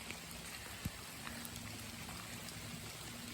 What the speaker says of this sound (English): it's another rainy day here, about 65 degrees out.